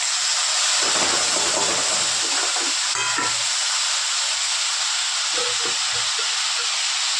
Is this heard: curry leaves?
yes